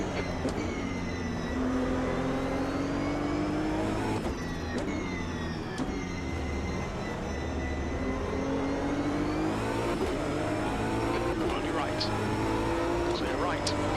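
Race car engine droning steadily in Automobilista 2, a continuous whining roar with pitch sweeping up and down through gear changes, under occasional talk.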